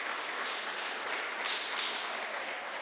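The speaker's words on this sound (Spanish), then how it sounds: "Los que puedan darle un aplauso al Señor," A church gathering applauds the Lord, a steady, even wash of many hands clapping together, heard without a break from start to finish.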